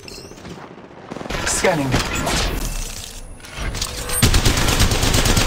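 Gunfire in the Apex Legends battle royale, rapid bursts of shots and impacts running through most of the stretch, loud and dense, with a voice speaking briefly early on.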